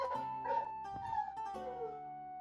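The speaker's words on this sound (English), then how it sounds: "I hear a dog." A real dog indoors, being cage trained, lets out tonal whines and yelps that rise and fall over a couple of seconds, fairly faint and on its own.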